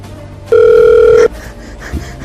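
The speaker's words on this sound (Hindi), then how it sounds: "उस कन्हैया को फोन लगा" An outgoing telephone call rings once as a loud, steady electronic tone lasting under a second, followed by quiet room noise and a faint thump.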